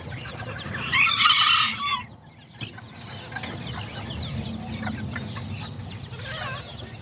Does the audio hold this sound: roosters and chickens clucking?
yes